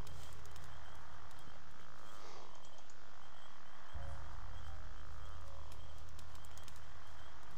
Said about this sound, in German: Wo extremst die Frösche quaken